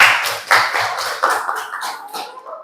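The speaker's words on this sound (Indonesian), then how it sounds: "Tepuk tangan dong untuk kalian semua." Students clapping in a classroom during a static electricity lesson: a short burst of loose, uneven clapping with a few stronger surges, close and fairly loud, tapering off at the end.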